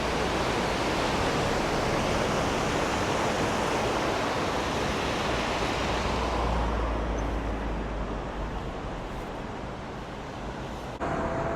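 A mountain stream flowing near Karakul town in Kyrgyzstan, surrounded by snowy mountains, heard as a steady, dense rush of water that stays loud and unbroken for the whole stretch, with no voices.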